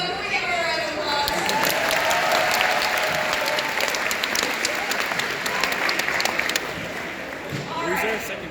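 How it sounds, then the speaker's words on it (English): Audience applause for a newly selected alliance team at a robotics competition, sustained crowd clapping and cheering under an announcer's voice, tapering near the end. "Can we give her a round of applause?"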